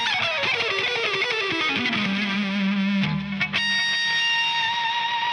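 Distorted, chorus-laden electric guitar lick in a neoclassical style, with fast, dense picked runs that settle into sustained bent notes, loud and continuous with no voice.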